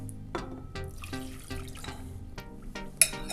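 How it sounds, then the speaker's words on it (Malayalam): Water is poured and drips in a baking class while preparing a white glaze, a faint run of trickling and dripping with a series of soft, evenly spaced splashes close by. "വെള്ളം ഒഴിക്കുന്നു"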